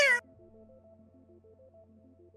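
A human voice imitates a cat's cry with a single brief, high meow, followed by quiet low background music.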